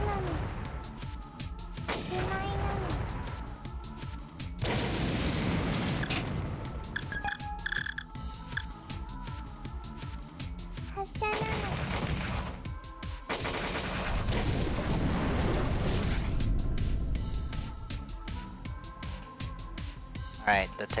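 Heavy artillery and gun fire in the video game War of the Human Tanks, with loud rumbling barrages and sharp blasts in repeated waves over roughly twenty seconds, mixed with battle effects and game voices speaking throughout.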